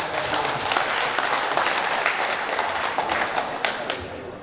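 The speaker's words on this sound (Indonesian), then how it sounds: "Ya, tepuk tangan." An audience at a cooperative's annual members' meeting breaks into sustained applause, a thick wash of many hands clapping at a steady level from start to finish, heard from some distance in a large room.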